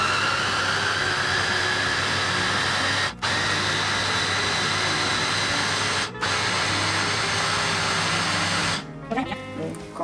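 Blender grinding soybeans with 1.5 litres of water and pandan leaves for soy milk: a loud, steady whirring drone running close for most of the time, cut by two short dips before it stops near the end.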